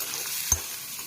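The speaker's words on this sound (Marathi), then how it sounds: "मी कढईमध्ये साधारणतः 1 चमचा तेल घातलेलं आहे. त्याच्यामध्ये मी कापलेला कांदा घातलेला आहे." Chopped onion frying in about a spoonful of oil in a wok, a steady soft sizzle with one short stirring clunk near the middle, close and alone.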